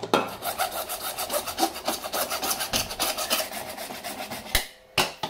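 A metal hammer head for an antweight combat robot is cut down with steady back-and-forth rasping strokes, close and loud, pausing briefly near the end before one last stroke.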